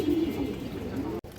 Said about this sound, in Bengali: একদম পিওর অরিজিনাল কালো কালো মাদি কবুতর